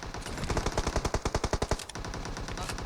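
Rapid automatic gunfire from the PUBG Mobile battle royale game, a fast burst of about fifteen evenly spaced shots that ends abruptly, followed by quieter background game ambience.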